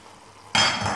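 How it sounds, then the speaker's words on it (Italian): A lid is set on a pot of risotto with duck speck and saffron cooking over high gas: one sharp metallic clack, then a louder steady sizzle and bubbling under the cover. "io vado a chiudere con un coperchio e lascio andare per 5 minuti"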